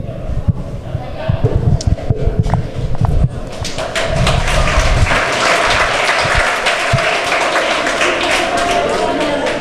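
Graduation audience at Banadir Academy School clapping in a hall, a dense sustained round of applause that swells after a few seconds and continues steadily, with voices mixed in.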